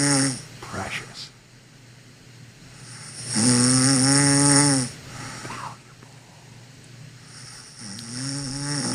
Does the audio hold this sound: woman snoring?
yes